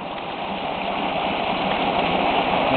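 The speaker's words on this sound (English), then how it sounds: "My homemade Banki water turbine." Homemade Banki crossflow water turbine running on water fed through about 230 feet of 4-inch sewer pipe, heard as a steady, loud rushing and gurgling water roar close by, with no talk.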